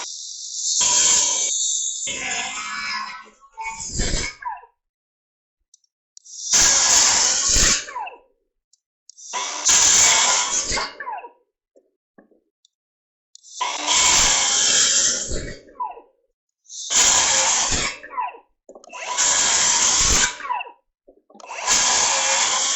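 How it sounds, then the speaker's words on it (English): Circular saw making repeated cuts through a roof rafter for lookouts and barge rafters, about seven loud bursts of a few seconds each separated by short silences. "keeping the base plate of your saw tight to your rafter and making sure you're going all the way through"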